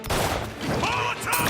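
Rapid gunfire from a firefight in the game Mafia: Definitive Edition: dense, overlapping volleys of shots, loud and close, with a brief lull before another burst.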